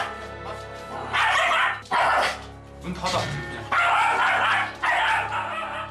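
A problem dog barks and lunges at a woman trying to enter her son's room indoors, giving loud, repeated bursts of close barking with brief pauses while people talk over it.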